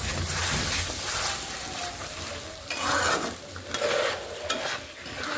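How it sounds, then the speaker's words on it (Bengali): Spinach and cauliflower curry with yogurt gravy sizzles steadily in a pan while a spoon stirs and scrapes through it, a loud, close, continuous frying hiss with rhythmic stirring. "ভালোভাবে এটা কষায় নেব"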